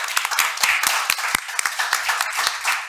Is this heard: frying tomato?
no